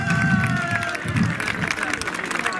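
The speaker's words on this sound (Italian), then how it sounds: "Ragazzi, con un applauso, un saluto a due campioni mondiali" Children at a school Paralympic sports day clap for two world champions, a lively scattered patter with crowd hubbub and a voice speaking over it.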